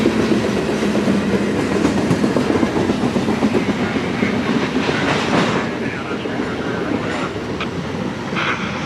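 Eastbound freight train 16N rolls past on the Fort Wayne Line at about 25 miles an hour, a loud continuous rumble with wheel clatter and squeal that eases slightly toward the end.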